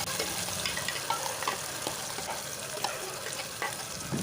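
Ground masala paste frying with golden onions and green chilies in oil, a quieter continuous sizzle with scattered clicks and spatters, close and steady without speech.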